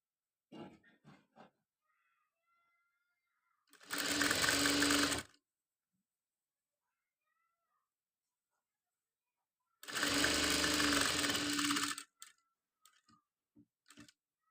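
Two short bursts from a sewing machine stitching a school uniform top placket, each running a second or two, separated by quiet handling ticks and soft clicks nearby.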